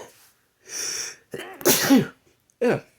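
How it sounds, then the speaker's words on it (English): A sharp, close sneeze with a breathy intake beforehand, followed by a short throat-clearing sound. "It wouldn't be one of my videos without a cough or a sneeze somewhere."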